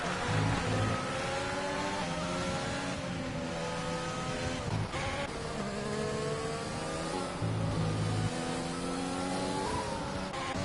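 Racing cars accelerate hard at a safety car restart in a racing video game, a dense, continuous engine drone with repeated rising rev sweeps and gear changes, loud and uninterrupted.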